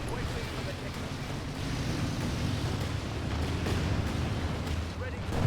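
An artillery barrage rumbles in a WWII video game match, a dense continuous roar of distant explosions with no distinct individual blasts, heard alone at steady loudness.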